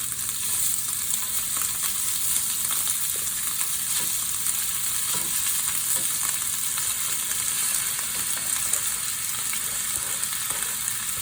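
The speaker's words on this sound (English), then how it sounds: "here I've got the olive oil heating up" Steak meat frying in hot olive oil over medium heat. A continuous close sizzle and crackle holds steadily from start to finish, with small pops scattered through it.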